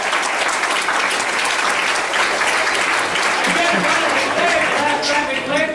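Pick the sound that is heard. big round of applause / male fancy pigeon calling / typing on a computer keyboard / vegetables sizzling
big round of applause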